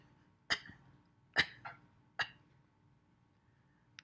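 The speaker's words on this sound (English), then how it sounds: "Cough at the very end." Three separate coughs, close and fairly sharp, spaced about a second apart in a quiet room.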